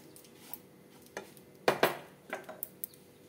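Semolina (suji) dry-roasting in a pan without ghee for upma, with scattered scraping and stirring scrapes of a utensil against the pan, one louder pair of scrapes midway, otherwise quiet and close.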